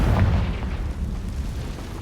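Confringo spell explosion in Hogwarts Legacy gameplay, a heavy, close blast with a deep rumbling boom that rolls on and slowly decays.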